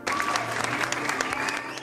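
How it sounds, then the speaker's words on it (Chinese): Applause rises in a short, dense burst of many hands clapping together, a crowd sound that stays steady and fairly loud throughout its brief length. "再次掌声鼓励"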